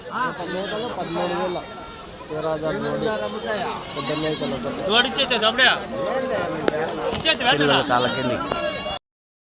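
Goats and kids bleat loudly and constantly at Kadiri livestock market, many overlapping cries close by with crowd chatter mixed in.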